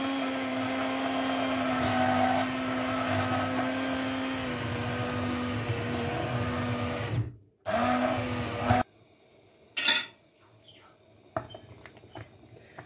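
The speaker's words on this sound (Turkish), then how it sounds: "Güzelce kaynayan domateslerimi artık blenderdan geçirme zamanı." A blender purees boiled tomatoes for tomato sauce, whirring loudly for several seconds, briefly cutting out and restarting, then stopping; quiet clatter and a short burst follow.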